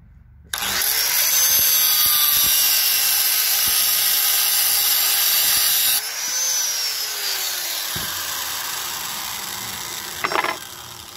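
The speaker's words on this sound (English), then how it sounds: "Also got to cut this post down about half the distance" Power tool cutting down a metal post on a tractor being readied for snow, a steady loud whine running for about five seconds, then dropping in pitch and continuing as the cut finishes, with a brief clatter near the end.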